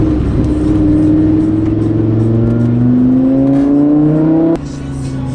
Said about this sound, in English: Put some heat in the engine, fire this thing up